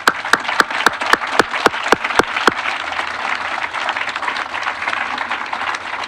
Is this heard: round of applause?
yes